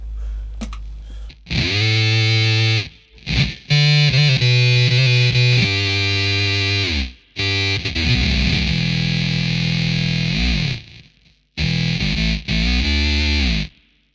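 Electric guitar through an MXR Blue Box fuzz pedal plays sustained, buzzing notes and bends in loud bursts separated by short silences, thick and saturated with a bright edge.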